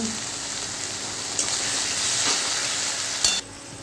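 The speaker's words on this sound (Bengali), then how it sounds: "লঙ্কার গুঁড়ো দিয়ে দিলাম। দিয়ে একটু মশলাটা কষবো।" Chili powder stirred into a spice paste for a home-style fish curry, sizzling steadily in a hot pan with a continuous close frying hiss, a couple of brief scrape accents, then cutting off abruptly near the end.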